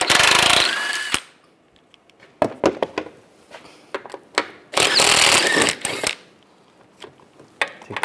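An impact power tool spins a 15mm socket on bolts under a 1999-2006 Chevrolet Silverado 1500, giving loud close bursts of rattling whirr separated by pauses, clicks and handling noises.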